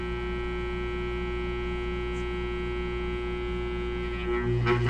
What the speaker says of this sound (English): So you place it on the growler as instructed, like that.